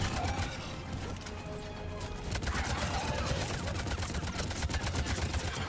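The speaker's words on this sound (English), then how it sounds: "I got an assault rifle now." Assault rifle fire in the game Mass Effect 3, a dense and continuous run of rapid automatic shots that stays loud and up close for the whole stretch, with battle noise mixed underneath.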